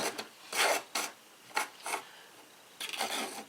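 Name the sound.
sharpening a Wusthof knife on a whetstone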